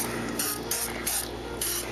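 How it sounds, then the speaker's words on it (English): Cooking spray hisses in four short bursts onto a cast iron wedge skillet before banana bread batter goes in, each spritz close and fairly loud, evenly spaced with brief pauses between, no talk. "we're going to take some cooking spray, and we're going to spray all the surfaces"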